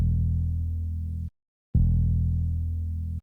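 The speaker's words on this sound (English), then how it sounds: "This is the simple Boo Bass plugin that you find inside FL Studio." A Boo Bass plugin in FL Studio plays a deep, sustained bass note. It cuts out for a moment of silence, then returns with the same heavy, steady tone.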